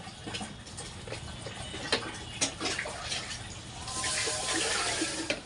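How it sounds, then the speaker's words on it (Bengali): Running tap water splashes into a pot as rice is rinsed in a home kitchen, with small clinks and taps of grains and vessel, the flow growing fuller and louder toward the end. "চালটা ধুয়ে নিয়ে ভাতটা চাপিয়ে দিই তাড়াতাড়ি"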